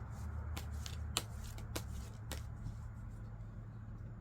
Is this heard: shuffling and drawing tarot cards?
yes